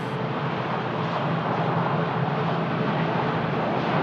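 An Airbus A319 taxiing at Lisbon Airport, heard as a steady, close jet engine whine and rumble that stays constant and unbroken, with no voices.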